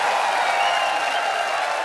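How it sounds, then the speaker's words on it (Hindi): Brief burst of dense applause from a television studio audience on a comedy show, a continuous loud wash of clapping with no gaps. "तालियां."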